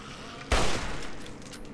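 Gunfire in the Fallout 3 game: a sudden loud shot or short burst erupts after a quiet half second, then tails off into a rumbling decay.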